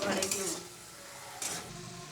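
Potatoes are stirred with spices and Kashmiri chilli powder in a pan, a spoon scraping and a soft sizzle running throughout, with a louder scrape at the start and another burst midway.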